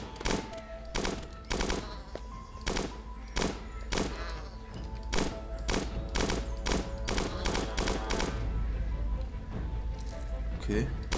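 Pistol gunfire in the video game Starbound: a rapid series of sharp, punchy shots in uneven bursts, loud and close, over a continuous game soundtrack.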